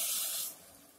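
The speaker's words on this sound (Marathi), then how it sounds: "आता ह्यामध्ये साधारण 5 वाट्या गरम पाणी घालूया" Hot water hisses and splashes as it is poured into a cooking pot of rice and spices, a loud rushing pour for about half a second that then drops away to a softer wash.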